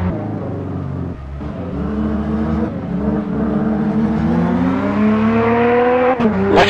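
BMW M3 E36 Group A rally car racing at night on a Sardinian stage in Richard Burns Rally, its engine loud and close, revving steadily upward in pitch with brief dips at gear changes and a sharp blip near the end.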